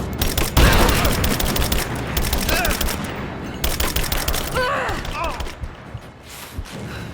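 Rise of the Tomb Raider gunfire on hard difficulty: rapid, loud automatic bursts rattle in dense volleys with brief gaps, mixed with impacts and game effects close up.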